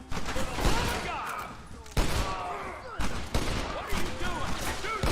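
Gunfire in the Western game Red Dead Redemption, a rapid series of loud sharp rifle and pistol shots with echoing tails, close and repeated throughout, with voices shouting among the shots.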